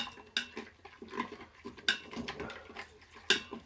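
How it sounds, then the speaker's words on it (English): Metal tool scraping browned bits off the bottom of an Instant Pot insert: repeated uneven scrapes and clanks against the pot, close and moderately loud, with a few sharper metallic hits. "Scrape up all that good chunks of stuff best we can with the wrong tool"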